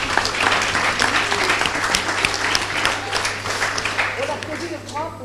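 A conference audience applauds steadily for about five seconds, a dense, even wash of many hands clapping at moderate loudness that fades slightly toward the end.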